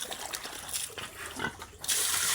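Pigs on a farm that have just finished eating, with grunts and snuffles close by, then water splashing and hissing loudly into their trough for the last half second.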